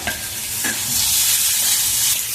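Fresh green chillies are added to man kachu (giant taro) frying in a pan, with a loud continuous sizzle and a few scraping stirs of a spatula close by.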